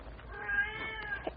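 A cat squalls from beneath a warehouse: one drawn-out, wavering meow, moderately faint and heard alone.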